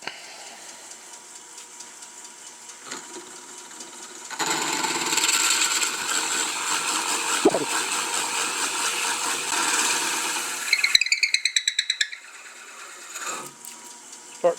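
Lathe drilling into a hunk of cherry wood at about 600 RPM: a steady whirring, grinding drone starts partway through, holds loud and close, then gives way to a quick burst of rapid high chatter before fading to lighter workshop noise.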